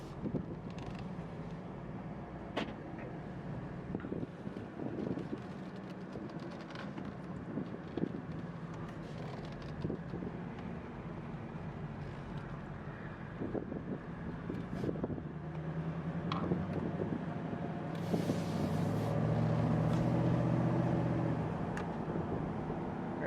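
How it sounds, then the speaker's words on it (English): A 2007 Jaguar XK set in drive and pulling away, heard from inside the cabin with soft creaks and rumble before the engine swells louder for a short burst near the end. "So put it in drive, and we're moving."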